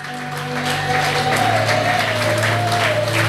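A church congregation applauding and cheering during a Sunday service, with sustained loud clapping over a steady organ or keyboard drone.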